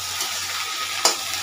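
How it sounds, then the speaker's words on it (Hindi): Tempering for an okra curry sizzles steadily in a kadai, a close, even frying hiss with a short sharp crackle near the end. "अब भिंडी की सब्जी है तो इसमें मैंने तड़का लगा दिया है"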